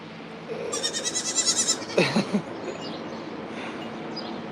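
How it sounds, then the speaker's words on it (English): Several goats bleat at an animal farm, one giving a rapid wavering cry and another a lower drawn-out bleat, fairly close, over a steady outdoor background hum with no talking. "So many goats, guys."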